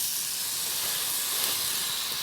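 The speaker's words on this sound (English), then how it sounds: "what I'm going to do is sear and brown this on all around, all the way around" A beef pot roast sears in smoking hot oil, giving a loud, close, unbroken hiss that holds steady from start to finish.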